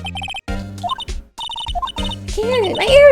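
A video game telephone rings in repeated short electronic bursts, fairly loud and close, and a voice or other game sounds take over near the end.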